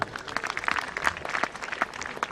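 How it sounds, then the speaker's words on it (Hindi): Audience at a hospital and trauma centre inauguration gives a short burst of applause, individual claps audible in a fairly sparse, moderately close patter that lasts only a couple of seconds. "जोरदार तालियां हो जाए"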